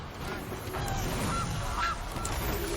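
A goose honks several times in the video game MTG Arena, short nasal calls at moderate volume over a steady background hum of game audio.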